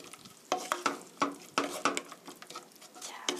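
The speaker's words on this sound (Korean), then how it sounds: "참기름 한 큰술 넣어주시고요. 고루 섞어주세요." Sauce being mixed right after a tablespoon of sesame oil goes in for tofu steak, a quiet run of wet scraping and spoon taps against a bowl in irregular bursts, close by with no talking.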